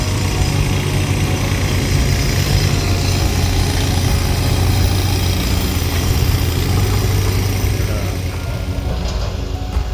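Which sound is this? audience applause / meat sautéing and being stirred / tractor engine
tractor engine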